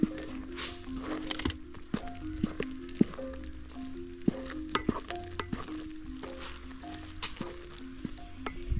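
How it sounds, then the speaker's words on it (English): Food in a frying pan sizzles as a utensil stirs it with scattered sharp scrapes and clicks against the pan, over a faint steady hum, close by and without speech. "So I'm going to stir it like this."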